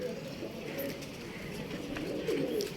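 Pigeons cooing at a rooftop loft at dusk, a steady low murmur of coos beneath broad background noise, with a few faint higher chirps scattered through.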